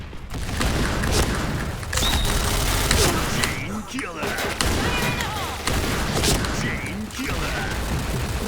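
Rapid shotgun blasts from an M1014 in the video game Point Blank, a dense run of loud reports firing in quick succession over continuous battle noise, with voices talking throughout.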